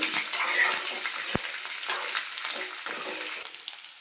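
Green chillies and curry leaves fry in a hot pan with oil, giving a steady loud sizzle and crackle throughout, with a sharp pop near the middle and a few spits toward the end; no one speaks.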